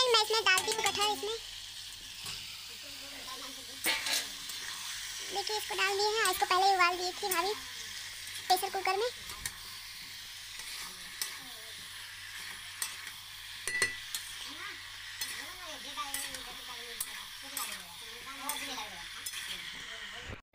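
Masala sizzling and frying in a pan with stirring scrapes, for a jackfruit curry, while someone talks over it throughout.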